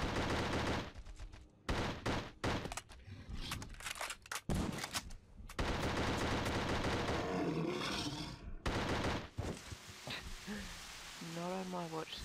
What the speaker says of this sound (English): I'm being shot from there.